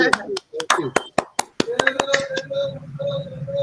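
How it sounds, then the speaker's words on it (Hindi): A few sharp hand claps ring out in a quick burst during an online webinar, followed by a voice talking with a sustained tone underneath. "ये ओरिजिनल ताली सर।"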